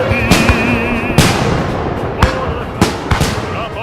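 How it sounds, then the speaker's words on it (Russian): A fireworks salute over Moscow marking Victory Day in May 1945, with a series of sharp booming bursts at irregular intervals over a continuous crackling roar and a sustained tone, loud and close. "Столица нашей Родины Москва салютует победе советского народа в Великой Отечественной войне"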